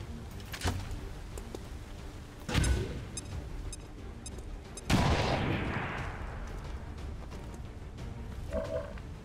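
Gunfire in the XCOM Long War video game blasting away cover: several loud, sharp shots with crashing debris and long noisy decays, one big burst near the middle trailing off slowly.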